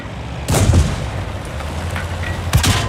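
Heavy cannon shots in World of Tanks, two loud booming blasts about two seconds apart, each with a sharp crack and a rumbling low tail over steady engine drone.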